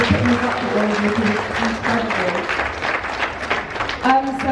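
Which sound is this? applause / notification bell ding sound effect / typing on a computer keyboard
applause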